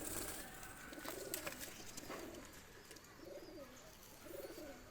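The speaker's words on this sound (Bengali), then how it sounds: "ছেড়ে দেখাচ্ছি দুইটা কবুতর।" A pair of pigeons, a Chinese hen and a golden cock, coo in soft, repeated rolling calls after being released, faint and fairly close with light background rustle and no talk.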